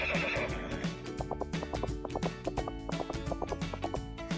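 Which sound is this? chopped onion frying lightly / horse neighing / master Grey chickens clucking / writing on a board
horse neighing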